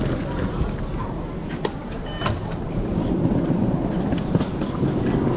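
A train at an airport rail station in Taiwan gives off a continuous, close, low rumble with occasional clicks and squeaks of railway cars throughout.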